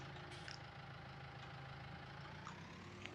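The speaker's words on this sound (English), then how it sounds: "I think this one actually has a little bit upgraded engine," A New Holland T5 120 tractor idles in Farming Simulator 19, giving a steady, low, droning engine hum that stays faint and even throughout with no revving.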